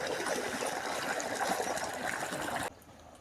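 Water gushes and trickles steadily into a farm field, a close rushing flow that cuts off abruptly near the end.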